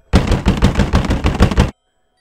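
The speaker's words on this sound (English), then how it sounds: "Later on, my front door started shaking violently." A front door bangs and shakes violently in a rapid series of about a dozen loud, close, sharp knocking impacts over under two seconds, then stops abruptly into silence.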